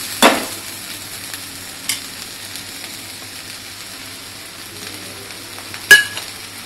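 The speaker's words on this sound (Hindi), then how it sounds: "गरम मसाला हमने इसमें डाल दिया है और इसको भी अच्छी तरीके से मिला देंगे" Garam masala is stirred into vegetable rice frying in a pan: a steady soft sizzle runs throughout, broken by three sharp spoon scrapes against the pan.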